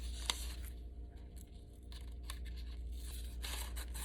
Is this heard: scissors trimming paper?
yes